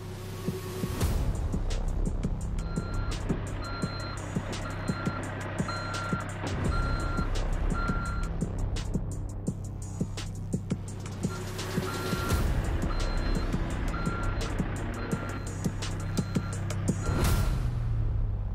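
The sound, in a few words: highway patrol vehicles reverse parking with reversing beeps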